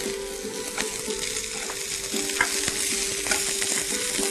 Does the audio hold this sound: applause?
no